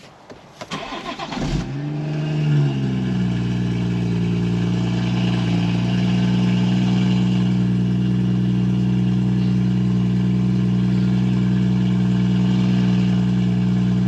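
A BMW 440i with a 6-speed manual and a BRSF catless downpipe cranks and fires up loudly, flares briefly, then settles into a steady, deep, droning idle, close and uninterrupted with no talking.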